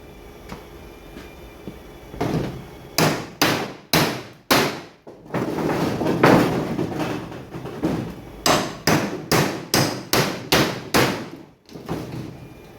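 Sharp repeated hammer blows knock the heads off screws on an old Sportspal canoe, a loud near series of metallic strikes in bursts, with scraping between them and no talk.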